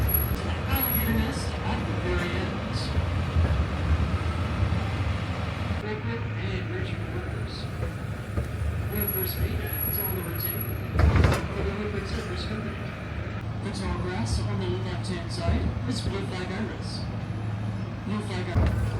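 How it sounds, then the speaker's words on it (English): Tourist train rolling through a swamp park, a steady low rumble and rattle running throughout with a brief louder clank near the middle, a voice talking over it. "Not too many people on the train today, but you can enjoy the swampy ride"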